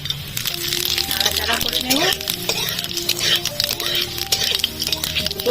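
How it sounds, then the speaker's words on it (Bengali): Whole cumin, cinnamon sticks and cardamom pods crackle and sizzle in hot oil during tempering, a close, busy frying hiss with scraping stirs, while someone talks over it. "দিচ্ছি তেল ফোড়নে দিয়ে দিচ্ছি গোটা জিরে দালচিনি এলাচ"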